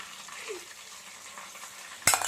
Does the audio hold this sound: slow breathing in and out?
no